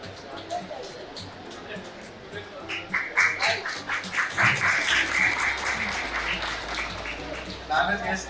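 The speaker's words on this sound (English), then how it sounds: "Huge round of applause." A college audience breaks into applause that swells midway and stays moderately loud, mixed with crowd chatter and speech at a campus event.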